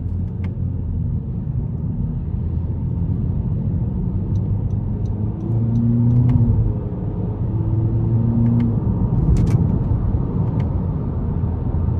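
A 2021 Honda Civic Sport 2.0 sedan accelerates in sport mode with its paddle shifters, giving a steady low engine rumble that swells slightly mid-way, heard from inside the cabin.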